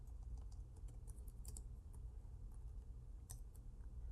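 Keys clack on a computer keyboard while a PowerShell command is typed, giving soft, close, irregular clicks over a steady low hum. The clicks are fairly faint and come in scattered bursts.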